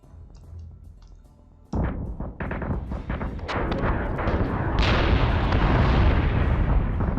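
Ship guns fire rounds during a space battle in the Battlestar Galactica Deadlock video game: after a quiet opening, a sudden loud burst gives way to rapid, rumbling booms and blasts that swell into a dense, continuous barrage.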